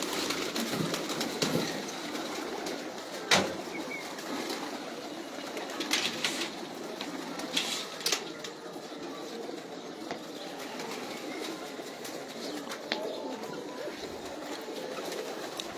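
Pigeons of an old breed cooing on a rooftop loft, soft murmuring calls running steadily through the whole stretch with a few sharper wing or handling sounds, fairly close.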